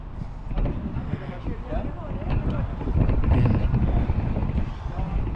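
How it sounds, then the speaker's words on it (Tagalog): Strong gusting wind in Helsinki, Finland buffets the microphone with a rumbling roar that builds and eases, loud and continuous throughout. "Sobrang lakas ng hangin guys."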